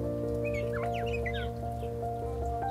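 Chirping calls from a pair of birds bathing at water in Kruger National Park near Letaba Camp, several short rising and falling notes over a steady low hum and background chatter of other birds.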